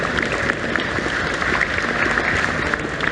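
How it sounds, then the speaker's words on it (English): Dense audience applause fills a comic con panel room, a steady wash of many hands clapping close and loud without pause for the whole stretch. "I want you to give another round of applause to Mark Bell."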